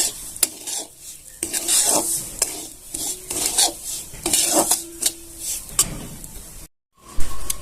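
Semolina roasting in ghee on a high flame, stirred briskly with a spoon scraping and knocking the pan in loud, uneven strokes over a light sizzle, close up, with a brief silent cut near the end.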